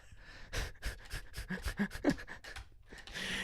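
A dog pants close by in quick, steady, breathy bursts that run without a break for a few seconds. No one speaks over it.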